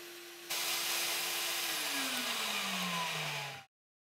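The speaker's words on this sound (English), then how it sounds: "extract the area with a neutralizing rinse" A carpet extractor rinses commercial Shaw carpet with a neutralizing rinse, giving a loud, close, steady rushing hiss of suction and spray. A motor whine in the hiss drops in pitch before the machine cuts off abruptly after about three seconds.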